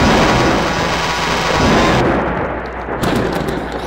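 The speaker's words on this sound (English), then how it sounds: "What that sound? Thunderstorm." Thunder in a video game rumbles loud and close, a heavy broad crash that rolls on for a couple of seconds before easing and swelling again.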